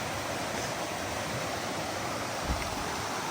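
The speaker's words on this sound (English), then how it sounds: "More rushing mountain streams this morning." A rushing mountain stream on the Appalachian Trail between Erwin, Tennessee and Cherry Gap Shelter pours in a steady, dense roar of water, close and unbroken, with no voices.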